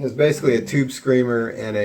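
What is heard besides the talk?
No everyday noise stands out behind the speech.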